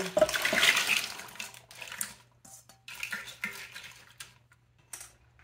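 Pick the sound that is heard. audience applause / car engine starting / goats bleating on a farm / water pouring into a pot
water pouring into a pot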